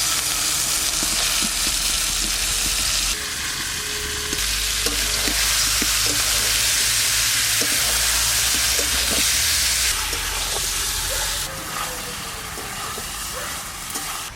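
Mutton frying in a pot for a village-style curry, a loud continuous sizzle with occasional stirring clatter, dense and close throughout.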